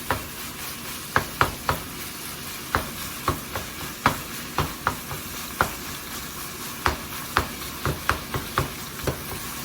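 Spaghetti mince is stirred and broken apart with a spoon in a hot pan, giving a series of sharp scrapes and knocks in an uneven rhythm over a steady low sizzle, close up and with no talking.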